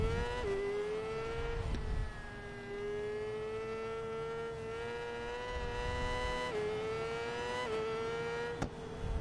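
Race car engine in a racing video game lapping Phillip Island, a steady high whine held close and loud with brief dips and rises at gear changes, alone without talk.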